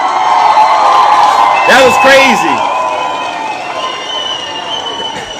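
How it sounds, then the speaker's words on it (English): A lively crowd bursts into cheering, whoops and applause that swells and then slowly settles, with voices shouting through the noise. "we'll give him a round of applause"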